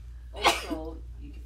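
One short, sharp sneeze bursts out close by, followed by a brief voice in a quiet room.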